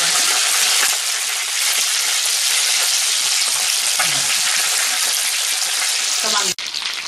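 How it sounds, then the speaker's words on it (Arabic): Spinach sizzling and frying in a pan with garlic and coriander, a loud steady crackle throughout that breaks off abruptly near the end. "نحمر مع بعضينا اهو."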